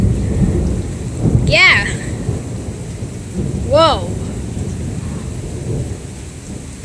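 Heavy rain pours steadily and thunder rumbles loudly during Hurricane Sandy amid flooding, while people briefly exclaim nearby.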